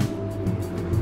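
A Ferrari sports car on Rodeo Drive, a low steady engine hum with a tonal drone, fairly close and continuous over a short moment, with street background.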